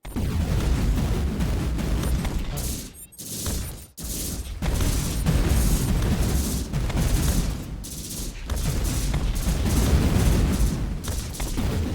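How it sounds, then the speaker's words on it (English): Cluster missiles from the video game Hyper Empire burst in a continuous, loud barrage of booming explosions, with brief dips near the third, fourth and eighth seconds before the roar resumes. "Here we go. Cluster missiles."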